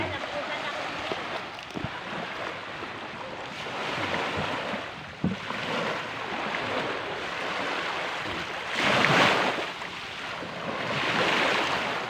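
Sea waves wash onto a beach at midday in a steady, broad roar, with a louder surge of surf near the middle and another toward the end, and wind buffeting the microphone throughout.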